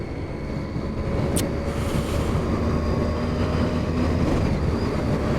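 A 2007 Triumph Street Triple 675 motorcycle engine braking at around 30 mph in fifth gear, a steady droning engine and road roar with constant loudness and no talk.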